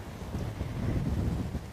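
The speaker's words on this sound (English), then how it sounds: "the wind is just howling across this open area" Low, rumbling wind howls steadily across an open area on a sunrise safari drive, a continuous gusty roar with no voices.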